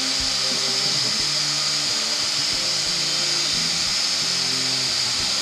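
A shellac-finished wooden spinning top buffed on a running woodturning lathe, giving a loud, steady broadband whir with a low motor hum and faint rubbing texture throughout, without talk.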